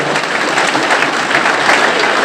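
Loud, close applause from an audience at a Hindi poetry gathering (kavi sammelan), dense continuous clapping at an even level throughout, with no speech on top.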